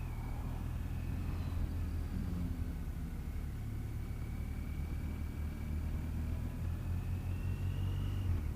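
A motorcycle pulls away in traffic during an advanced riding lesson, its engine a steady low rumble with a thin whine above, continuous and fairly quiet throughout with no one talking.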